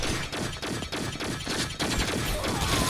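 Rapid gunfire from behind the player in the mobile shooter T3 Arena, a dense, continuous volley of shots with a steady beat, loud and sustained over the whole stretch.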